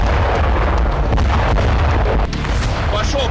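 A blast destroying a Russian S-300 air defence system in Rostov: a loud, continuous roar of booming explosion noise with heavy low rumble throughout, sustained rather than a single isolated bang.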